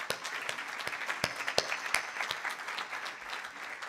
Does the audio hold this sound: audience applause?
yes